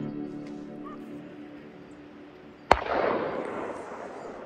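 A single sharp gunshot from a hunt beater cracks out in the distance in a Caucasus mountain gorge, followed by a rolling echo across open terrain.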